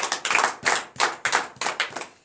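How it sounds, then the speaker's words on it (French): A church congregation in Benin claps together in an even, brisk rhythm during a night deliverance service, several loud bursts of applause-like clapping in quick succession. "Donne l'acclamation à Jésus."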